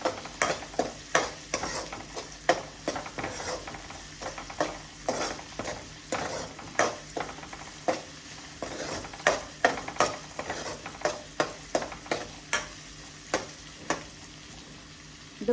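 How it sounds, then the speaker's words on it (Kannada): Onions fry in a pan with steady sizzling while a utensil stirs and scrapes them in repeated close, sharp strokes. "ಈರುಳ್ಳಿನ ನೀಟಾಗಿ ಫ್ರೈ ಮಾಡ್ಕೊಳ್ಳಿ"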